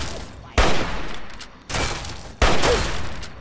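Gunfire in the video game Fallout 3, set in The Pitt, comes as three loud, close bursts of rapid shots, each starting abruptly and trailing off into ringing noise.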